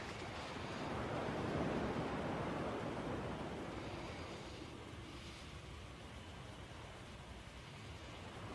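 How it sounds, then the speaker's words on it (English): Ocean waves lap and wash in the video game Kingdom Hearts 2, a soft continuous surf hiss that swells near the start and then settles to a gentler, steady rush with no voices. "At least the waves sound the same."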